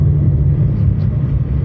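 A KTM Duke 250 motorcycle riding on the road gives a steady, continuous low engine drone with rumbling wind noise, holding an even level throughout with no voices.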